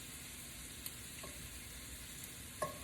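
Shrimp frying in butter in a pan on a stovetop, a soft steady sizzle with a few faint clinks of a utensil, quiet and close, with no talking.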